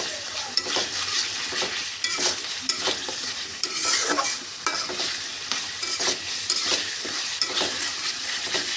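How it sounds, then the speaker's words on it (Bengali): Spice paste sautéing in oil for a duck curry, with a bright, steady sizzle and frequent scraping stirs of a spoon, close up and continuous without any voices. "মশলা কষানো হয়ে আসছে, তেল ছেড়ে গিয়েছে"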